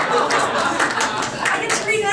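Scattered audience clapping breaks out at a poetry reading, a few sharp claps mixed with a voice speaking over them and a small chuckle in the room.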